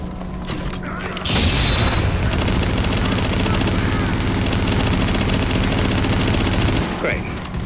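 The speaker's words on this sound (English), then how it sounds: "There's gunfire at the front gate." Gunfire erupts in the video game The Division at a front gate, a loud, sustained burst of rapid automatic fire and booms that starts abruptly and stops just as suddenly, with faint voices mixed in.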